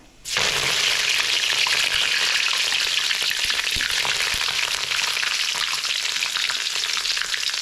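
Curry leaves and green chillies drop into hot oil that already holds crackling spices. The oil bursts into a loud, dense sizzle almost at once and keeps spitting steadily throughout, with no voices.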